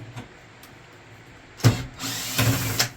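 A regular power drill drives screws in short bursts while scrapping an appliance, with a brief spin followed by a longer run and a final quick pulse, close by.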